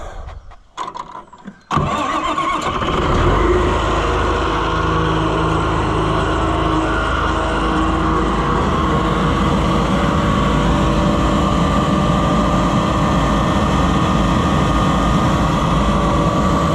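White 5100 truck engine firing up after a brief crank, then running steadily at a loud, even idle with a continuous rumble and hiss close by.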